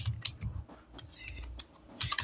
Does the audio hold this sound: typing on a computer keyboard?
yes